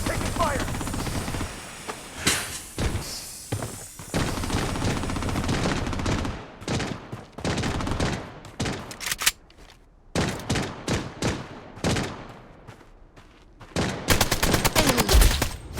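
Gunfire in the shooter game Blood Strike: loud, dense bursts of automatic fire and rapid shots, with brief pauses between volleys, mixed with in-game voice callouts.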